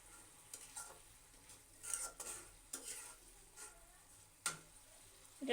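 Dried loitta fish with whole garlic cloves cooks in oil, giving a faint, quiet sizzle under irregular stirring scrapes and a few clinks of a utensil against the pan.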